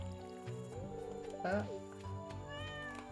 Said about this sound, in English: You have to go say hello to our kitty cat.